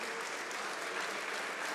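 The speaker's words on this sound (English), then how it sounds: "Let's give him another round of applause" A crowd at a mall grand opening gives the Premier a steady round of applause, dense and sustained throughout without any talk.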